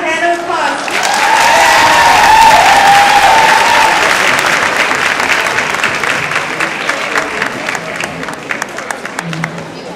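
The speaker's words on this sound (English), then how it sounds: "Give them a hand of applause." An audience applauds a couple who performed an Argentinian tango, a dense burst of clapping that swells quickly, holds loud for several seconds, then thins into scattered individual claps.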